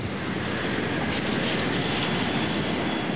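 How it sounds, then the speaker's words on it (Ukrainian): L-39 trainer jets flying aerobatics, a steady broadband jet roar that swells slightly midway and holds loud and continuous throughout, with no voices. "А це вищий пілотаж на учбово-тренувальних літаках Л-39."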